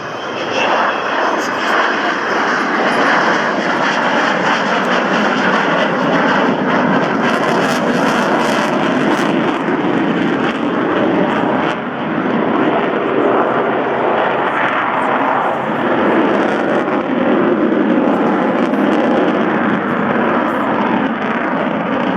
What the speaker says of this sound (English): wait for the sound as those Crystal Olympus engines spool up